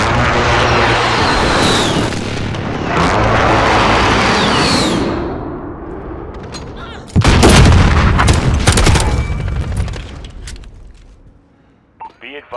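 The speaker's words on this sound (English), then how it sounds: "Be advised, friendly precision airstrike inbound" Precision airstrike explosions from the Modern Warfare shooter game: heavy rumbling blasts roll on for several seconds, then a sharper burst of booms and crackling debris fades out. Voices and radio chatter sound underneath.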